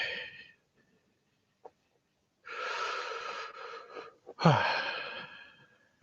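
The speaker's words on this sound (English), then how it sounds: "Okay, I need to slow down breathing." Heavy breathing comes in loud, ragged bursts close to the mic, with long gasping exhales separated by short silences and a sharp intake near the end.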